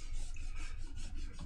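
Scrubbing dirt off the bottom of an aluminum laptop case, a quiet, rapid rubbing with short repeated strokes over about a second and a half, close and faint.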